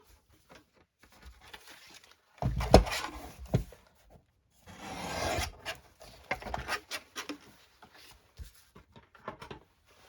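Paper being trimmed for a vintage Christmas journal pocket, with soft scraping and rustling rubs in two short bursts, quiet and close, separated by light taps and handling sounds.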